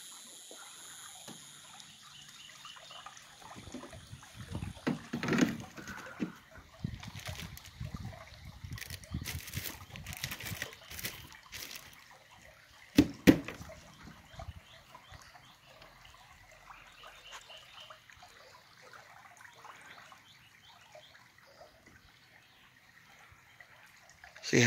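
Creek water trickles and laps softly around a boat backed up between large rocks in the shade of a river, with intermittent faint splashes and a few brief louder knocks, fairly quiet and close.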